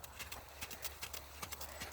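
A horse, ridden by Chelsea during a riding lesson, trots with a steady rhythmic clip-clop of hooves, faint and somewhat distant, with no talk over it.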